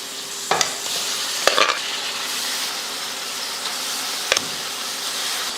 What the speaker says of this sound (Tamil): இந்த எண்ணெயில் கொஞ்சம் போட்டு நல்லா வதக்கி விட்டுறணும்